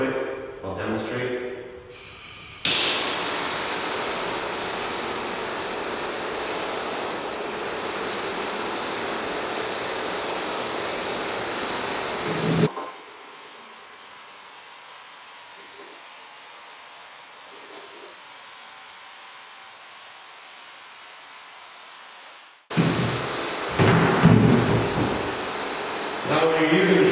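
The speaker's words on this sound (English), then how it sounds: "keep your flame about a quarter inch off the top of the plastic, and go over it real quick" A plumber's torch flame passes quickly over a bare plastic duck decoy, a steady broadband roaring hiss that cuts in abruptly, holds for about ten seconds, drops to a quieter hush, then flares again near the end.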